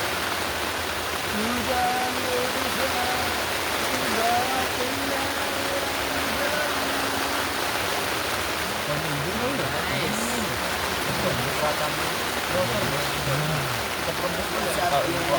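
Steady rain pours on a tent at a campsite on Mount Sindoro, a continuous dense hiss throughout, with people talking quietly underneath.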